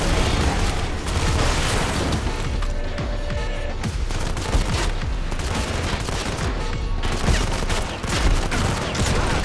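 Continuous heavy gunfire from the mobile shooter Modern Combat 5, a dense, loud barrage of overlapping shots and impacts that runs without a break.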